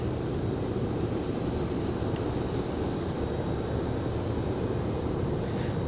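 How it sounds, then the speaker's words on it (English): Breeze Airways Airbus A220 airliner coming in to land at Raleigh-Durham International, a steady low engine rumble with a faint high whine, distant and unbroken, no talking. "Looks like we've got another Breeze A220 coming down the hill."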